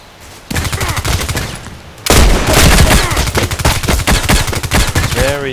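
IZH-43 double-barrel shotgun firing on the Old Sawmill map in Contract Wars, a video game: loud close blasts over a busy backdrop of other gunfire, with a voice speaking briefly.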